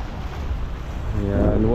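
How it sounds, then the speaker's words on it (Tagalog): Seaside ocean waves wash along the Al-Khobar Corniche in Saudi Arabia as a steady broadband surf hiss mixed with wind buffeting the microphone, and a voice rises faintly near the end. "Ito ang dagat. Wow, dagat. Ocean."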